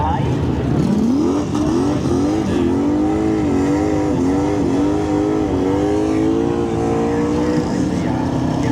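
An old Hemi-engined drag car launches hard at a dragstrip, its deep engine note rising steeply and then holding a loud, rough drone, with voices talking faintly in the background.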